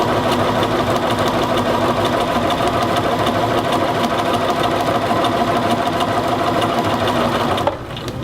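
A sewing machine stitches along the armscye edge of a shirt sleeve with a fast, steady mechanical whir that runs unbroken and then stops abruptly near the end.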